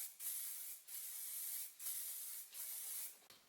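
An aerosol can sprays a coat of clear varnish onto a brake light in four close, even hissing bursts with short pauses between them.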